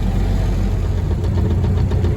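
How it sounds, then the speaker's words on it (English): A Willys CJ2A Jeep engine with a new carburetor idles steadily and loudly up close, a low even rumble with faint knocking throughout and no other sound. "She's just sitting here idling as nice as can be."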